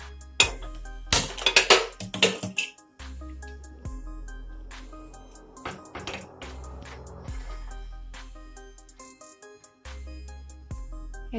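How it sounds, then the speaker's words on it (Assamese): A metal wok (kadai) is set down on a home gas stove, giving a few close metallic clanks and clinks near the start over steady background music. "এতিয়া মই গেছত কেৰাহীটো উঠাই লৈছো"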